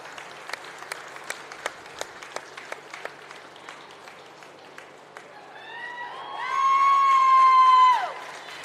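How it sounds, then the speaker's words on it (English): A crowd at a county 4-H fair meat goat show gives scattered, steady clapping for the exhibitors, which swells into a loud whoop and cheer near the end. "big round of applause to all of these exhibitors."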